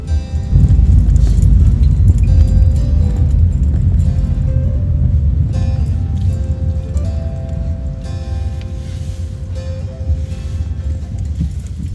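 Car rolling slowly through a farmyard near Wicken Fen, steering around large potholes, with a close, steady low engine and tyre rumble and light rattles and bumps from the cabin.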